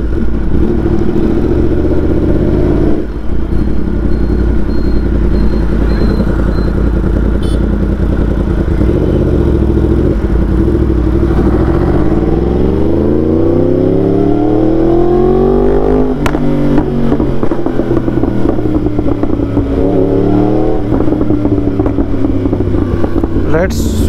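Yamaha R1 sport motorcycle engine ridden at night, loud and continuous close to the mic, with rising and falling pitch sweeps as it accelerates through gears, a steady rumble under occasional speech.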